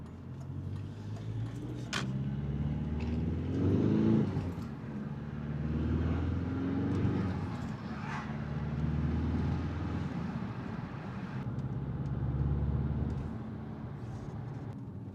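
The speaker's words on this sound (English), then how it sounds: "So yeah, the car drives perfectly. It has good power" A cheap Audi A4 with a 2-litre 103 kW engine and a mapped ECU drives along, giving a steady, continuous low engine and road rumble from inside the car, with no talk.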